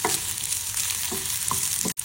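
A large chopped onion frying in hot oil in a pan for an egg samosa filling: a steady, close sizzle with a few soft stirring scrapes, no voices.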